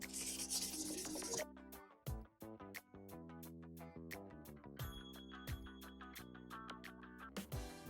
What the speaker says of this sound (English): we'll get this cleaned up down here with this 320 sandpaper